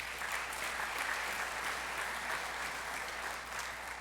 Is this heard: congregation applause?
yes